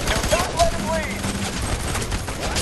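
Rapid video-game gunfire from Fear 3 crackles in a dense, continuous burst of shots, loud and close, with no speech over it.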